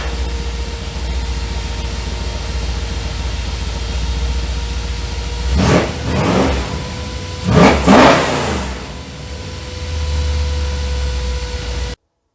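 Engine of a 1984 Dodge Ram pickup idling steadily while it warms up, a close, constant rumble with a faint tonal hum, broken by two brief revs around the middle before it settles back to a steady idle.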